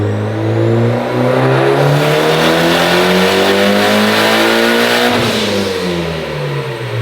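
A Mitsubishi Evo X engine pulls hard on a dyno at 20 pounds of boost, revving loud and close in one rising, whining sweep. It drops briefly near the end and then carries on.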